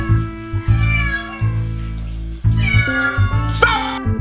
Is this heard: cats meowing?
yes